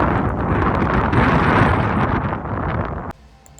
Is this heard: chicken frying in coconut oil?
no